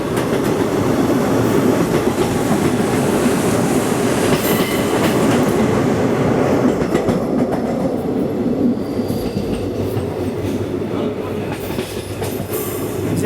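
The 17420 Vasco da Gama–Tirupati Express, hauled by a triple-locomotive set near Dudhsagar, roars along at speed with a loud, steady rumble and rhythmic wheel clatter heard from inside, without a break.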